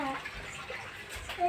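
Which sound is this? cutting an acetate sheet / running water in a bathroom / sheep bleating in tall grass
running water in a bathroom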